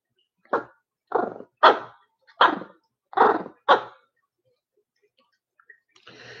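A deaf dog barks six times in quick, evenly spaced bursts at moderate distance, followed by quiet and a faint rustle.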